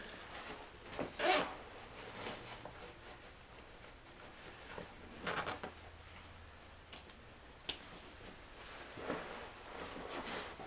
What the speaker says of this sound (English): Zip this down and your bag will open up.